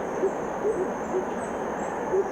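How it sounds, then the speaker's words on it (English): In a Guatemalan rainforest at morning, soft owl hoots repeat several times at moderate distance, over a thin, constant high insect whine. "The next morning, we arose to an incredible cacophony of bird sounds."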